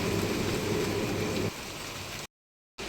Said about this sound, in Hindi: बारिश तो रुकने का नाम ही नहीं ले रही, बल्कि और भी तेज हो गई है